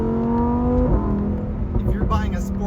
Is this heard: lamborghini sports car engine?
yes